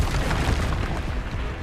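A spell is cast in the Hogwarts Legacy video game, a dense booming magical burst that rolls on for over a second, loud and continuous with no clear gaps.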